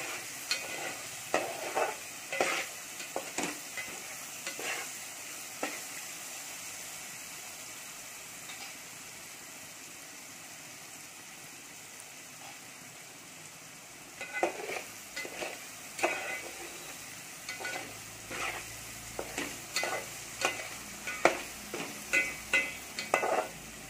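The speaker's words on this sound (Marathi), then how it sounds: "मसाले चांगले भाजून घ्यायचे." Spices dry-roasting in a pan for Maharashtrian Bhogi mixed vegetable bhaji, scraped and stirred in repeated quick strokes over a faint steady hiss, with a quieter pause midway before the stirring resumes.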